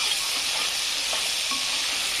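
Ginger, coriander and garlic paste frying in a pan, giving a loud, steady sizzle and hiss with faint stirring scrapes and no talking.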